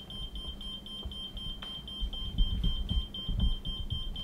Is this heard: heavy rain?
no